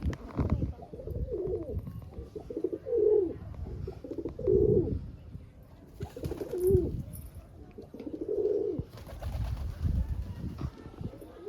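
Pigeons coo repeatedly in soft, rhythmic bursts, several overlapping calls rising and falling close by, with a low background murmur and no speech.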